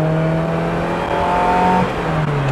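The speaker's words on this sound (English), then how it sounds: "Today we're driving a 1978 Ferrari 308 GTB." A 1978 Ferrari 308 GTB with a carbureted engine hums steadily while driving, a close, continuous mechanical drone with a slight shift in pitch partway through as the revs change.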